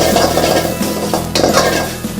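Spices with chopped garlic, green chilli and julienned ginger stir-fried in a pan for a beef kutkura, a steady sizzle with scraping and clinking of a spoon against the pan, close and continuous.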